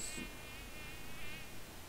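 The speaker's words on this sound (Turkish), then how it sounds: "Hakikaten sinek efekti koymuşlar çok gıcık bir şeydi." A fly buzzes in the Minecraft Twilight Forest game, a thin droning whine that wavers close by over a faint background, with no talk.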